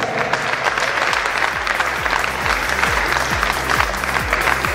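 An audience claps steadily at a cup event, a dense, sustained round of applause from a crowd that stays even throughout.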